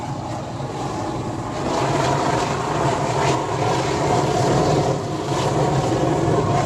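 A simple oil-burner furnace for melting aluminium car parts roars steadily and loudly, the broad rushing blast swelling slightly as the fuel tap is opened up, with no speech.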